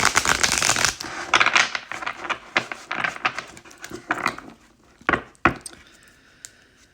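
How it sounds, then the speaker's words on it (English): A deck of cards being shuffled by hand during a tarot-style reading, quick riffling rattles and sharp slaps in uneven bursts, close and clear, ending in a few isolated taps, with no talking. "So first I'm going to shuffle."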